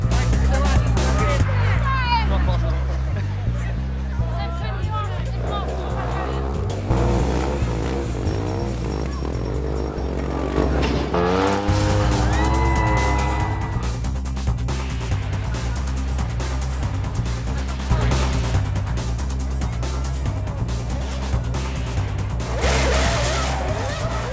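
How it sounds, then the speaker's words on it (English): Formula 1 race car driving around roundabouts in Milton Keynes, a loud continuous engine roar with shifting revs and tire squeal throughout, close and sustained. "it's good to be able to drive the F1 car here"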